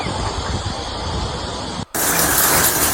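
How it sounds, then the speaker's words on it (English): Hail pouring down during a powerful storm in Sydney, Australia: a dense, steady roar that breaks off briefly near the middle, then returns brighter and louder. "I thought it was just rain. They have hail coming down."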